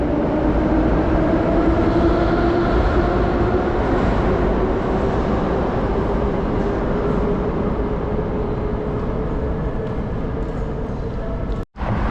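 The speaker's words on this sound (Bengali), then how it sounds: "এই আমরা এখন আরেকটা মেট্রো স্টেশনে এলাম" A metro train in a Tashkent metro station rumbles loud and continuous for several seconds, a dense, even roar that cuts out briefly near the end.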